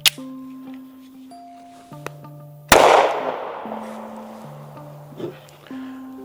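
A Smith & Wesson Shield Plus pistol fires a single loud, sharp report of 30 Super Carry with a 115 grain Gold Dot load through a chronograph, followed by a brief decaying ring and faint background tones.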